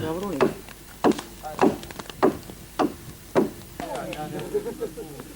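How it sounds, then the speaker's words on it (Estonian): Wooden sticks are struck between the side planks of a Soomaa dugout boat being spread over fire, giving about seven sharp, evenly spaced wooden knocks nearby. A voice talks toward the end. "Parrastele antakse puupulga vahelelöömisega esimene pinge."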